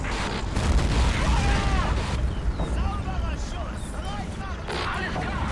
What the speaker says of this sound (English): It does sound like a German AT rifle firing.